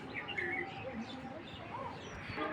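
Chocolate grizzle pigeons give soft chirps and coos, fairly faint, over a low background hum.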